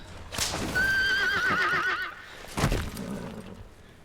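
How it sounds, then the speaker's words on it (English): Horse from the Metal Gear Solid 5 video game giving a loud, wavering neigh with hoof clops, followed by a short burst of another sound. "This time we get to do it while riding a horse."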